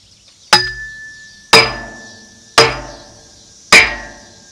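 A hammer drives a post into the ground with four loud, evenly spaced ringing blows about a second apart, each strike clanging close and decaying quickly, with no talk.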